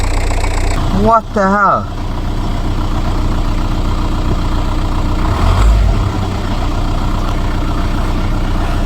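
Abandoned modern car, sitting unused for nine years, idling after its first start: a steady, continuous engine drone runs throughout at close range, while a man exclaims briefly near the start.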